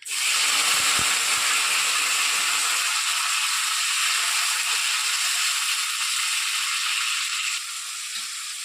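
Nigella seeds and chopped tomato hit hot oil, setting off a loud, hissing sizzle that flares at once and then holds steady, easing slightly near the end, with no talk.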